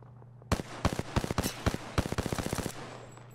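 Rapid weapon fire in the video game Apex Legends, a burst of sharp close shots in quick uneven succession that starts abruptly and trails off, with no talking.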